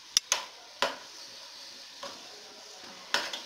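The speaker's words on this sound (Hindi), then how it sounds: "हमने अच्छी तरह से चिकन जो है उसको फ्राई करना है" Chicken frying for biryani in a pan: a soft, low sizzle broken by a few sharp knocks and scrapes of stirring, close by, with no voices.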